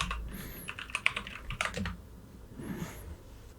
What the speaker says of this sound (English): I'm gonna enter my password.